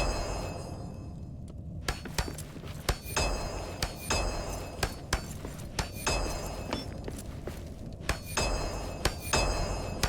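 Hammer blows knocking away mold in the dwarven mines of Return to Moria, a string of sharp metallic clinks and thuds at an uneven but steady pace over a low background hum.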